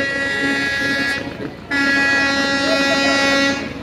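A passenger launch pulling away from a crowded river ghat, its horn blaring in a loud sustained tone that cuts briefly and resumes, steady and close.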